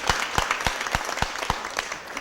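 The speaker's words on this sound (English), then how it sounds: "You all need to get them a hand clap because they are looking" An audience at a Board of Aldermen meeting claps, with distinct, evenly spaced hand claps over a softer background of scattered applause, fairly close, and no speech.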